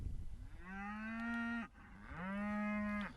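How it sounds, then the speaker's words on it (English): Cows on a farm give two long, loud, close moos, each rising and then sliding down, separated by a short pause. "Come on, cows."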